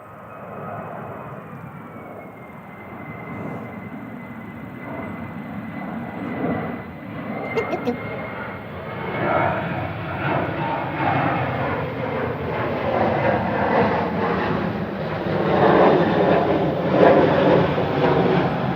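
A Boeing 737-800 goes around at Manchester Airport. Engine noise starts as a steady mid-distance drone, then swells into a heavier, rising roar in the second half, with a brief click partway through.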